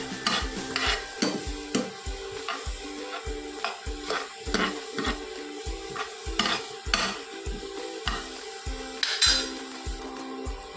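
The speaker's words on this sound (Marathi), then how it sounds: "कढीपत्ता, हा ब्राऊन होईपर्यंत हलवून घ्यायचा आहे" Curry leaves stirred in a pan without oil until brown, a rhythmic series of close metallic scrapes and clinks from the spoon against the pan over a faint sizzle, no voices.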